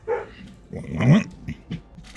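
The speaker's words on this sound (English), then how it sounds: "Had to investigate what my dog was barking at." A real household dog gives a few short, muffled barks and low growly yips at a moderate distance, separated by brief pauses.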